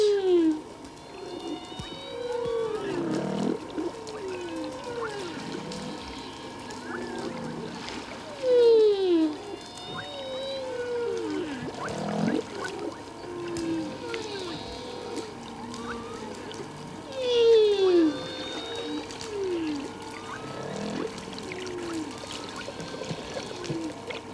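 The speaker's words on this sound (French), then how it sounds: "Les jeux amoureux des baleines à bosse." Humpback whales call at sea during courtship, a near-continuous stream of moans, whoops and rising and falling cries that overlap and swell in loudness over a steady underwater hum.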